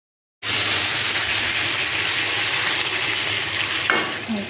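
Water poured into vegetables frying in a pan sets off a loud, gushing sizzle that starts abruptly after a brief silence and holds steady, with a small clink near the end and no talking.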